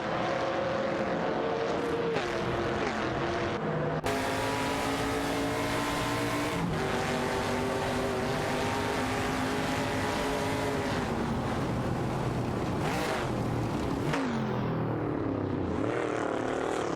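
Video game AI race cars, a 1972 Ford Torino and an AMC Matador, roaring side by side with continuous engine whine and shifting pitch as they rev and change gear, loud and sustained with no talk.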